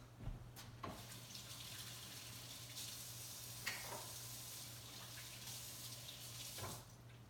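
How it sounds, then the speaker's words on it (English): Tap water running steadily while someone washes their hands in a kitchen, a soft, even rush with a constant low hum beneath it and a few faint clinks, no voices. "I'm gonna go wash my hands."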